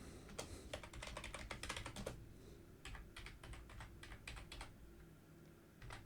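Fingers type in bursts on a computer keyboard, clicking quickly and close up during Cisco network configuration work, with short pauses between runs of keystrokes and no talking.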